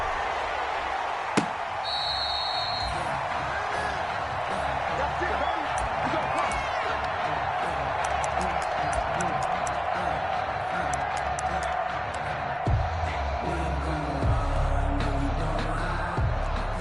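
Video game stadium crowd for an Arizona Cardinals versus Washington football team matchup on PS4, a continuous cheering roar with scattered thuds and claps, a brief tone, and commentary talking over it.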